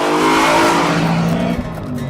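BMW M3 engine revving high on a race track, a loud, steady, harmonic-rich wail that dips slightly near the end.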